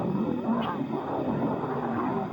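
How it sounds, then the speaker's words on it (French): A group of lionesses roaring together, a dense, continuous low rumbling roar that fills the short stretch at close range. "Toutes les lionnes reprirent son rugissement à l'unisson"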